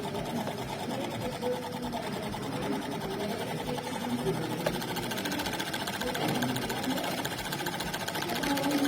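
Steady, fast whirring hum of a DC motor with a rapid mechanical chatter, continuous and close, fairly quiet throughout without pause.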